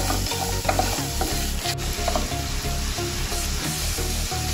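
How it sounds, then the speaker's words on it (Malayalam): Onions and carrots sautéing for a veg pulav, a loud continuous sizzle with rhythmic spoon strokes scraping the pan roughly twice a second, close up and with no voices. "ഉള്ളിയും ക്യാരറ്റും ഒക്കെ വഴന്ന് വന്നിട്ടുണ്ട്."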